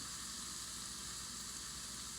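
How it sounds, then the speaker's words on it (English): Pepper browns in oil inside an Instant Pot, giving a faint, steady sizzle with soft crackling and no voices. "because you really actually want to brown your pepper"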